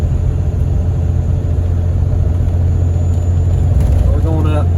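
A Cummins diesel pickup towing a large fifth-wheel trailer climbs a 6% grade through a road construction zone, its steady low engine drone and road rumble filling the cab.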